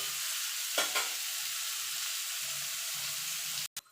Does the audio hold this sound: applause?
no